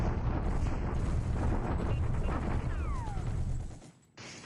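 Artillery bombardment at Clark in the strategy game War in the Pacific, a dense, continuous rumble of blasts and booms with a descending whistling streak near the end before a brief dip.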